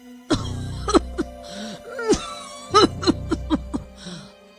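A woman coughs repeatedly in harsh, throaty bursts, with a short pause and then another rapid fit of coughing, close by.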